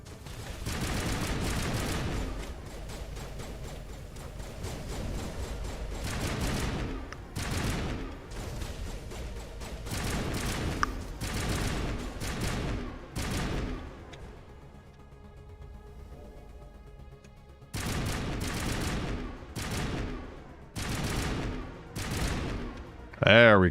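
Enemy gunfire in the video game Mass Effect, with repeated rapid volleys of shots arriving in clustered bursts and a brief lull partway through, under a player's occasional speech.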